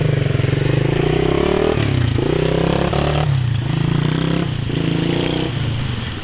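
A pit bike motorcycle engine runs loud and close, a continuous buzzing drone with small shifts in revs throughout.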